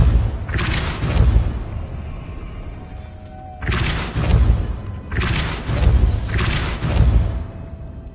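The Depulso force spell is cast repeatedly in Hogwarts Legacy, producing three heavy booming whooshes spaced a couple of seconds apart. Each one is loud and close with a deep rumble and a rushing tail.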